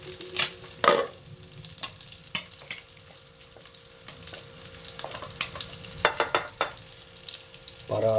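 Galunggong fish frying in a pan, a close steady sizzle broken by sharp crackles and pops, with a few louder spatters toward the end.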